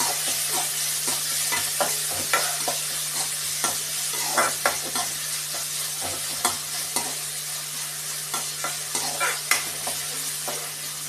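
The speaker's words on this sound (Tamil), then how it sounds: "இந்த கருவாகட்டும், கடுகு இதாகட்டும். போட்டு வதக்கிட்டு" Dried fish, mustard seeds, onion and curry leaves stir-fry in a hot pan, giving a continuous bright sizzle with frequent sharp spatula scrapes and taps, close and fairly loud, without any voices.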